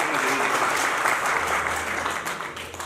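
A room full of people clapping steadily at a webinar, sustained applause without a break, fairly close and moderately loud.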